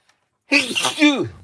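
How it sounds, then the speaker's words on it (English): One sudden, loud sneeze, very close to the microphone, with a short sharp intake followed by a voiced burst. "I've just sneezed in your ear."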